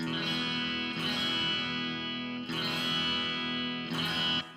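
A harsh, nasal, distorted electric guitar tone from a NuX MG-30 multi-effects unit rings out in three sustained strummed chords, loud and buzzy.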